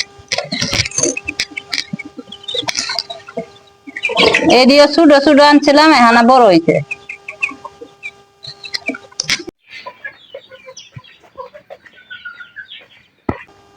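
Chickens on a poultry farm give short clucks and cackles, with a longer loud run of calls in the middle, while a person talks about the growing birds.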